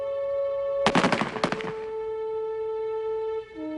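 Rifle volley at a French military execution in the First World War, a quick ragged cluster of sharp cracks lasting under a second over a steady tonal hum, then fading back to the hum alone.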